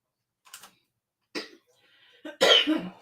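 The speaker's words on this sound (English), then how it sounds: "That's my wife in the background coughing." A woman's separate coughs come in short bursts with pauses between, the last one loudest and harsh, sounding a little distant from the room.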